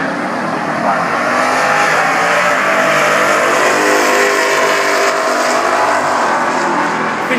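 A drag race car accelerates hard at Englishtown Raceway during a Mopar Nationals event, its loud, continuous engine roar filling the whole stretch with dense, sustained power and no break.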